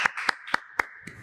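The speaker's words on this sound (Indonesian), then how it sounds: "Beri tepuk tangan yang meriah untuk Bung Raga Bolang." Five sharp, evenly spaced claps ring out close and bright in a quiet room, a small studio audience welcoming a guest on a talk show about coffee shop business.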